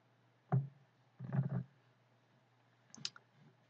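Computer mouse clicks on a Windows 10 PC, a few sharp, close taps: one single click, then a quick cluster of clicks, then another pair after a pause, in an otherwise quiet room.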